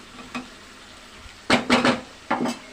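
Cardamom powder stirred into an egg and potato curry in a pan, with a few short spoon scrapes and clatters, one soft early stroke and two louder bursts later, over a faint sizzle.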